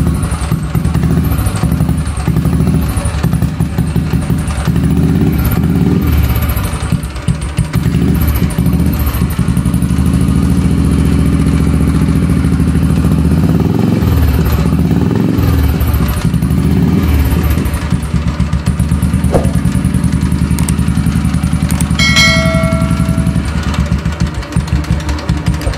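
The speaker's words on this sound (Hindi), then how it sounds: "रॉयल एनफील्ड को थोड़ा स्टार्ट करना काफ़ी मुश्किल हो जाता है" A Royal Enfield motorcycle engine runs with a loud, steady thumping chug throughout, close by, its rhythm roughening briefly partway through.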